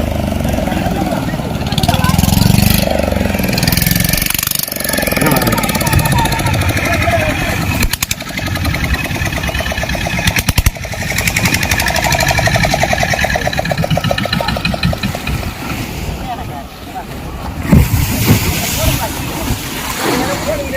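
At Kovalam beach a fishing boat's engine runs and rumbles among crashing surf as the boat comes ashore through heavy waves, the noise rising and falling. Someone talks over it almost the whole time.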